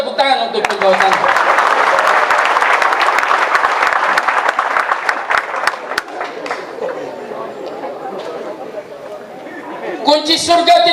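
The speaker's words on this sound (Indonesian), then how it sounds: "kita tepuk tangan untuk pembawa tangga" A congregation at a worship service inside a prison claps loudly and continuously, the applause thinning out partway through as voices and a chatter of activity come back in.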